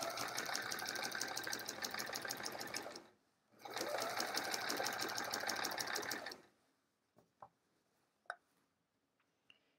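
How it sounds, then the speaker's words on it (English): A sewing machine quilts a line with metallic thread through a quilt border, running in two loud, steady rapid stitching bursts separated by a brief pause, then stopping, followed by a few faint clicks and taps. "I'll just have to sew this line here again, the one next to this one that we're doing now"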